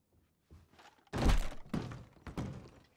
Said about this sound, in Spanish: ¿Y esos disparos?